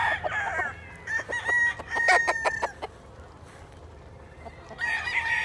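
A crossbred rooster on a farm lets out loud, close crowing calls in quick bursts, broken by clucks and pauses before another strident crow at the end.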